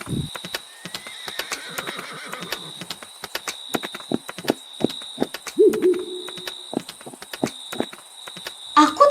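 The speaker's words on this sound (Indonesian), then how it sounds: "Dengar. Dengarlah. Derap kuda." Horse hooves clip-clop in a steady rhythm in a radio drama, with a whinny partway through, against a quiet night background with a high insect-like hum.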